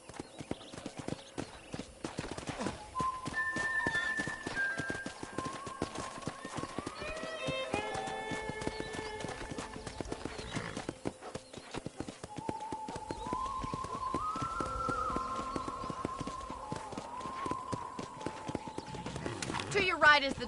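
Horse hooves clip-clop at a steady walking rhythm in Red Dead Redemption, close and continuous under musical tones, with people talking over them.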